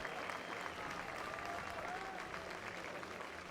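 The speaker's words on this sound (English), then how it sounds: "He gets a hand from the crowd." Steady, moderately distant applause from the crowd at a baseball game as a pitcher walks off the mound, an even patter of clapping that holds throughout with faint voices mixed in.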